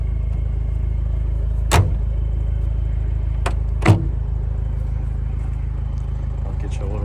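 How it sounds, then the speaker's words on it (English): A 1995 Toyota Land Cruiser KZJ73 with a 3.0L 1KZ-T turbo diesel idles with a steady, deep, low exhaust rumble. A couple of sharp clicks sound close by over it. "I'll get you a little exhaust note here"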